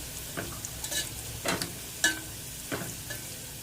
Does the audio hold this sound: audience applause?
no